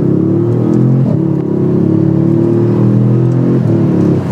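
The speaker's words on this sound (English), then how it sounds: "If you listen closely, you can hear the slight clutch slip while upshifting." Audi S6 engine pulling hard at wide open throttle through upshifts, a steady loud mid-pitched drone with brief dips and mushy transitions as each gear engages with slight clutch slip.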